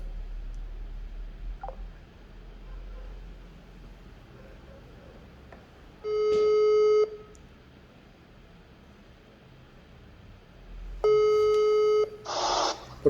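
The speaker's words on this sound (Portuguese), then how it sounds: "Não para de tocar o seu telefone." A telephone rings during an online law class call, with two loud electronic ringing bursts, each about a second long and several seconds apart, cutting over faint room noise.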